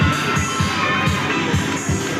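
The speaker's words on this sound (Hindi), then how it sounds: "अब बहुत ज़्यादा भीड़ भी है, संडे का मौसम है इसलिए देख सकते हैं।" Sunday crowd at Ton Park amusement park in Sector 12, Faridabad, Haryana, a loud dense wash of voices and shouting from people on the rides, with a repeating rhythmic low thumping underneath.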